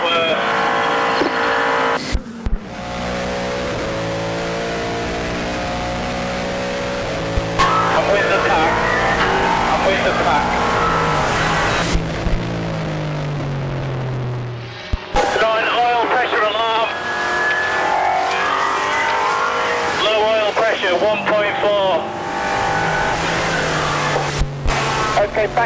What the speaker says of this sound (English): This front right wheel vibration is a lot worse.